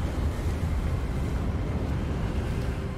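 Wind blows steadily through an outdoor area in Hogwarts Legacy with hail and flags nearby, a constant loud rushing roar that fills the moment with no voices.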